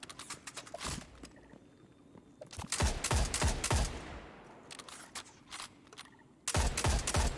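Exotic Meda Multi-Tool from Destiny 2 fires in several rapid bursts, sharp cracks clustered around the one-, three- and seven-second marks with quieter tails between, loud and close with no speech.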